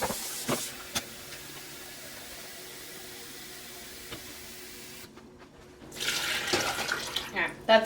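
Tap water runs into a large stock pot for canning vegetable stock, giving a steady hissing stream that briefly stops and then resumes more loudly, with a voice speaking at times.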